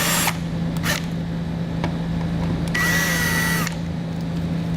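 A power drill or driver backs out T30 Torx screws from the inside paneling of a car bumper while fitting a Roadmaster Direct-Connect base plate, with short whirring bursts between a steady low hum.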